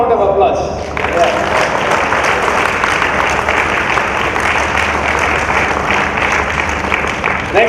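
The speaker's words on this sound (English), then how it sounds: "I think we'll give one more round of applause." Audience applause at a mother's 94th birth anniversary celebration, a dense, steady round of clapping that starts after a brief moment and carries on loud to the end.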